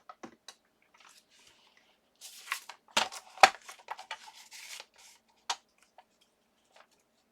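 Scissors trim paper in a quiet room, with a few scattered snips, then a denser run of crisp cuts and rustles, and a couple of last faint snips.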